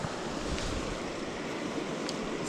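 Fast-flowing water of the Cache La Poudre River in Colorado, a steady broadband rushing close to the microphone with some wind buffeting, no voices.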